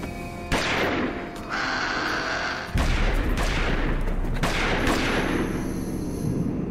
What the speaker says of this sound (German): Zum ersten Mal schießen die in Jurassic Park zumindest mit echten Waffen auf Saurier